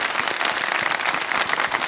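A studio audience on a Pakistani kids' television segment claps loudly and densely, the dense patter of many hands continuing unbroken from start to finish.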